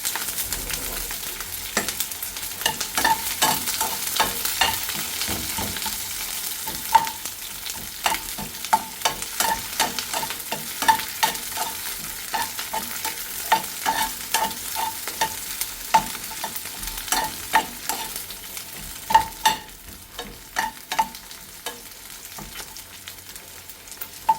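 Onions sauté in hot oil with a continuous sizzle, while a spoon scrapes and stirs in frequent irregular strokes over a long stretch, close and steady, with no voices.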